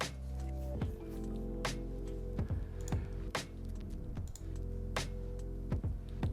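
Typing on a TGR Unikorn 60 mechanical keyboard, with steady rapid keystrokes clacking close up over a constant low hum, no talking.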